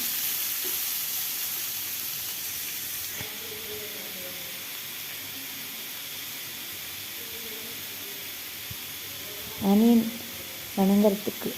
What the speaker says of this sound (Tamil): கட் பண்ணி வச்சுருக்கிற பெரிய வெங்காயமும் அது கூட கருவேப்பிலையும் சேர்த்து வணக்கிக்கலாம். ஆனியன் நல்லா வணங்கட்டும்.